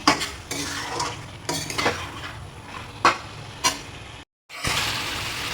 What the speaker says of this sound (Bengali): খুব ভালো করে নাড়িয়ে চাড়িয়ে এটাকে কষাবো অল্প জল দিয়ে